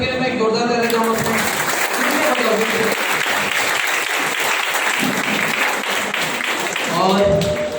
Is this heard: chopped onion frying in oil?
no